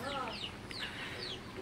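Broiler chickens on a poultry farm cluck in a short, busy burst, several birds close by with overlapping calls over a low background hum.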